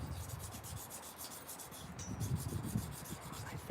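A scandi grind folding knife is worked on a sharpening stone, taking off heavy material through a rough factory scratch pattern, with a continuous close rhythmic rasping and rubbing at moderate loudness.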